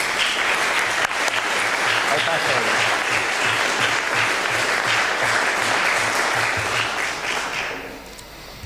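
Church congregation applauding after music in a church service, loud sustained clapping that tapers off near the end, with a voice speaking briefly under it.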